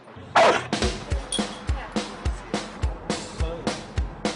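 A herding dog barks again and again in a quick, even rhythm, roughly ten sharp barks at close range, each one clear and loud against a quiet background.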